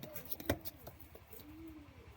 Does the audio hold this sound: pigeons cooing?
yes